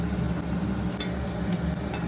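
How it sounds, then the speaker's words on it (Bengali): Potatoes fry in oil in a kadai, sharing the pan with oil just used for frying eggs, giving a steady, dense sizzle with a few brief clinks, close and continuous throughout with no talking. "তারপর সেই তেলেই আলুগুলো দিয়ে ভেজে তুলে নিলাম।"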